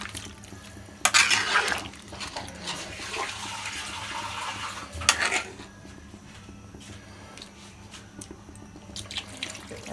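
Water pours into a cooking pot in a home kitchen in a couple of louder bursts, then a quieter, steady trickle that carries on to the end of the clip.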